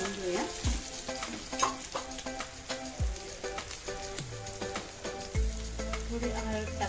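Banana flower bhaji with potato sizzles in a pan as spices go in, a steady frying hiss broken by repeated sharp clinks and scrapes of a spoon stirring, close and fairly quiet.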